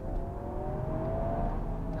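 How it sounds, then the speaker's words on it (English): A Litchfield-tuned Toyota GR Yaris in track mode gives off engine induction noise from inside the car, a faint, steady whirring tone that rises slightly in pitch over a low rumble. "you've got loads of induction noise"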